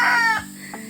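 Hens clucking at a chicken coop, a few close, short calls with brief gaps between them.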